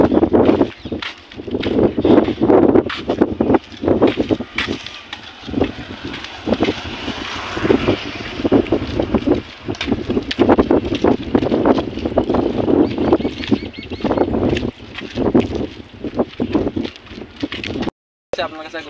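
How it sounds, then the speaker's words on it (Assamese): Wind blows across a boat on the Dhansiri river, a constant loud buffeting rumble against the microphone, with someone talking over it throughout. "বহুত ধুনীয়া বতাহ মাৰিছে"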